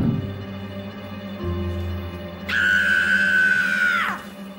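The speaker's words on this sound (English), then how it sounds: "that girly scream of yours might have just given the game away" A high, shrill scream holds for about a second and a half, loud and close, then drops off sharply, following a stretch of low background noise.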